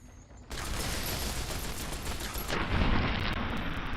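A big gun fires in Fallout: Tale of Two Wastelands during the Lonesome Road stretch, a dense, loud burst of rapid booming shots that starts abruptly after a short quiet moment and keeps pounding to the end.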